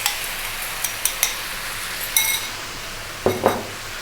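Tuna and eggs being stirred in a frying pan over above-medium heat, with light metallic clinks and scraping taps from the utensil against the pan over a steady sizzling hiss, plus a couple of louder scrapes near the end.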